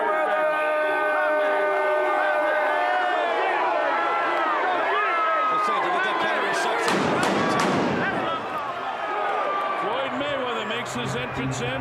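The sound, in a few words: fireworks going off at boxing arena entrance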